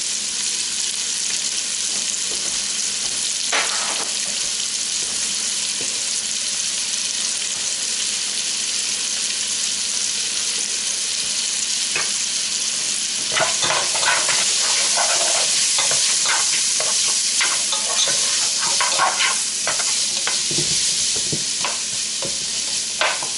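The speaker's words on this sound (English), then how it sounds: "cook that until the onions just start to get a golden color to golden brown" Chopped yellow onion and about three cloves of minced garlic sizzle steadily in a pan, a continuous close frying hiss that swells louder partway through, with occasional stirring scrapes and pops.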